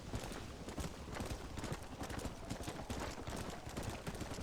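Horse hooves clip-clopping in the video game Red Dead Redemption, a continuous, fairly quiet run of galloping hoofbeats with no voices.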